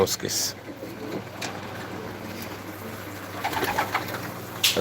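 Breeding pigeons coo steadily in a loft, a low, continuous murmur of several birds close by, with a soft voice briefly audible in the background.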